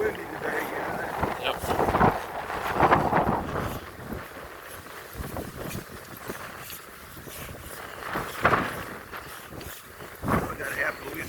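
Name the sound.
wind blowing on the microphone in a park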